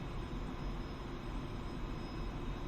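A Su-25T jet engine throttled back in a flight simulator game gives a steady, broad rushing roar with a thin high whine, constant and fairly quiet.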